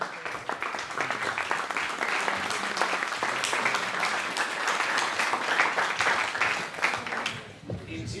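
An audience in a Franciscan church setting breaks into sustained applause, dense steady clapping from many hands that holds for several seconds before thinning out, with voices faintly mixed in.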